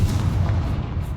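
A Confringo spell blast in Hogwarts Legacy, a deep rumbling boom that rolls low and heavy for about a second with a dull, muffled explosive body.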